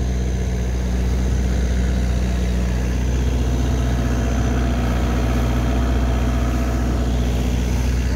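A steady, loud boat engine idles and rumbles continuously nearby off Phuket, Thailand, a low droning hum with no breaks.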